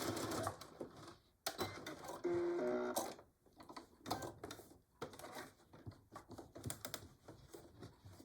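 Sewing machine back stitching fabric for a Christmas pincushion, short rapid mechanical bursts starting and stopping, close and fairly quiet, with brief pauses between runs and no talking.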